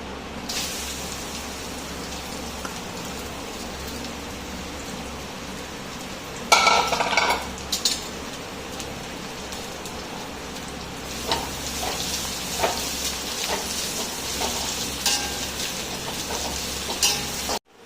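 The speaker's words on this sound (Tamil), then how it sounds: "எண்ணெய் ஊற்றிக்கலாம். அடுத்தது பூண்டு போட்டுக்கலாம்." Garlic frying in oil in a pan while garlic idli podi is made, a steady close sizzle with a louder burst of crackling partway through and intermittent stirring scrapes.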